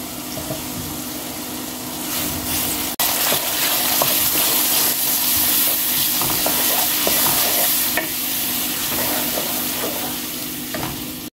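Garlic and ginger paste frying with browned onions for a goat rezala, a continuous sizzle under steady stirring and scraping in the pan, with no one talking.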